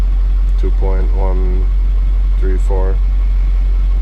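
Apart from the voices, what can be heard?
Ford F550 Powerstroke diesel engine idling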